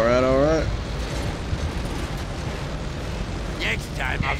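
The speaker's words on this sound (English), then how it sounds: "Next time I'll stay with the exploding gas station." An exploding gas station in a co-op campaign video game rumbles as a long, deep, rolling blast with crackling debris, opening under a brief voice and ending with more voice fragments.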